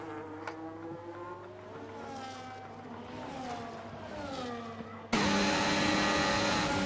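Formula 1 cars in a racing game at Silverstone, battling side by side into Stowe. Several engines scream at high pitch and overlap, rising and falling in tone. A louder, harsher engine note cuts in abruptly near the end.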